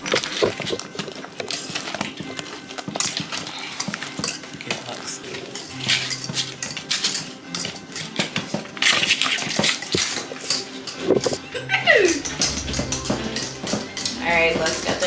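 Ingredients for Christmas treats being mixed in a bowl, with steady scraping and clinking of a utensil against the bowl, fairly close and busy, with some voice in the background.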